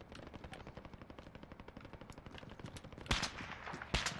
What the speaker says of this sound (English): Someone else is shooting.